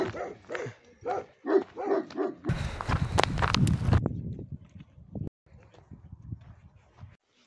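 Dogs bark and yelp on a mountain walk in the Blida Atlas near waterfalls, a burst of loud barking mixed with footsteps and rustling, then quieter scattered sounds as the walker moves on.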